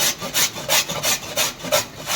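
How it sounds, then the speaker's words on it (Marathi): Pumpkin being finely grated by hand, a rhythmic series of rasping strokes, about eight in two seconds, close and fairly loud with no talking. "तर आपण भोपळा चांगला किसून घेऊ।"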